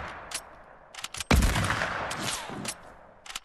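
Gunshots in a video game: one loud, sharp crack with a booming tail near the middle, surrounded by fainter, scattered clicks and shots.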